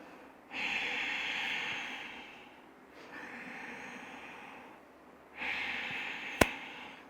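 Deep, audible breaths during a backbend yoga workshop, three long airy inhales and exhales through the nose, close and unhurried, followed by a single sharp click near the end.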